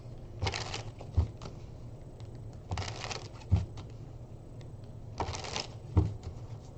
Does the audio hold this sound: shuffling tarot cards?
yes